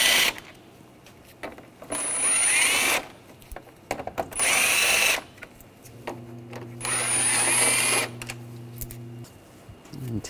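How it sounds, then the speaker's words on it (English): A power tool with a T30 socket drives out screws while an air temperature sensor is replaced on a 2009-2013 BMW 328i, three loud whirring bursts of about a second each separated by pauses, with a steady hum under the last. "We're going to take these screws out, use a T30 socket."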